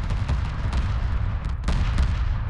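A missile corvette fleet attack in Homeworld Remastered sounds as a dense barrage of overlapping thumps and booms, steady and mid-loud, with repeated sharper bursts through the stretch.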